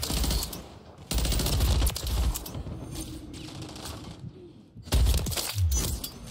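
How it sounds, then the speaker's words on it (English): Rapid automatic gunfire from a BP-50 assault rifle in Call of Duty ranked play, arriving in loud, dense bursts separated by short pauses of quieter game ambience. "Oh my god, I'm shooting."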